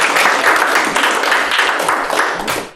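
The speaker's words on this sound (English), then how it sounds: "I guess it was one more round of applause for that." Round of applause from the audience at the close of a university UAS team's external design review, a steady dense clapping that fades at the end with no talk over it.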